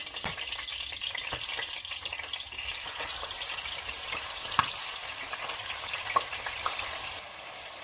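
Meat frying in hot oil in a pot for Senegalese rice, a dense continuous sizzle and crackle heard close and fairly loud, with a few small utensil clicks and no talk.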